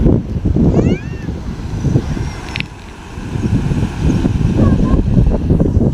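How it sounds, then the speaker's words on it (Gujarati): Floodwater rushes over a road after a cloudburst near Vallabhipur, a loud continuous roaring wash with wind buffeting the microphone and a faint voice at times. "જો રોડ ઉપરથી પાણી જાય છે આ રીતને જો ગજબનું ભાઈ પાણી જાય છે"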